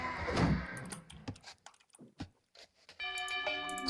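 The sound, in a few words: town bell ringing in Age of Empires 2 video game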